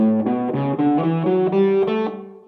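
An electric guitar with distortion plays a dominant Mixolydian scale, notes stepping upward, sustained and evenly paced, ending on a ringing note that fades.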